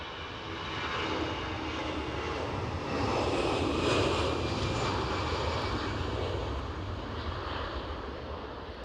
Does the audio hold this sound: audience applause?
no